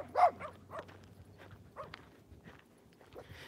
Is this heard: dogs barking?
yes